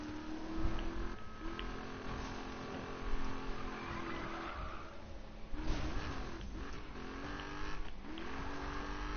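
A car drifts with its tires skidding and squealing over a continuous engine drone, in long wavering screeches that rise and fall, with brief breaks as the slide shifts.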